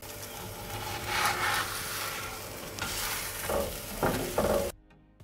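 Lavash fries in a covered skillet on a stovetop with a soft, steady sizzle and a few louder scraping bursts. It stops abruptly into near silence at the end.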